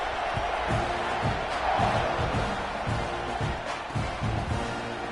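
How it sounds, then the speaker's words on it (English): A football stadium crowd buzzes after a score, a broad, steady roar of many distant voices with occasional thumps and swells, under faint commentary. "this crowd is buzzing after that last score"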